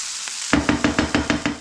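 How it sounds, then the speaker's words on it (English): Steady crackling sizzle of vegetables frying in a pan, with a regular rhythmic scraping as they are stirred and tossed, close and moderately loud. "The onions and the sugar snap peas are sizzling away"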